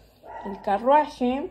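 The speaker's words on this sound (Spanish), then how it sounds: "les pido una disculpa por mi perro que le encanta ladrar" A dog barks indoors in a quick run of short, sharp yips and barks close by, mixed with brief speech.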